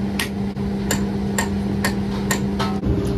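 Sharp metallic hammer blows strike a chisel on a loading shovel, working loose a part stuck by a weld, about six evenly spaced impacts over a steady low machine hum.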